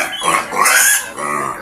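Pigs oink and grunt in a rapid, close run of squeals and snorts over about two seconds, a noisy group heard early in the morning.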